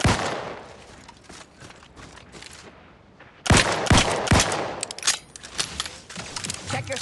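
Gunfire in The Outer Worlds 2, sharp loud shots in bursts and rapid volleys, near and punchy, with quieter gaps between them and talk in places.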